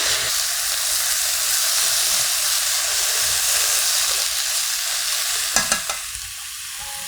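Spicy Korean pork bulgogi stir-frying in a frying pan gives a loud, continuous close sizzle with a steady steamy hiss, broken near the end by a few sharp scraping clinks of stirring.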